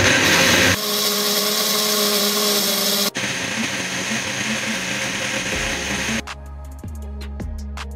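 A blender grinds chilies, lemon juice and other marinade ingredients for chicken malai boti with a loud, steady motor whir. The motor stops abruptly and restarts, then winds down to quieter clatter near the end.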